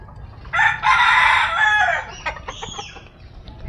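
A rooster crows once, loud and close, a long strained call that trails off into softer clucks from farmyard fowl.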